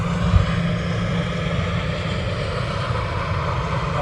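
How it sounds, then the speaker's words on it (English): A business jet taxis at London Luton Airport, its engines giving a steady, even whine and rumble at moderate distance with no voices. "Bizjet taxiing on."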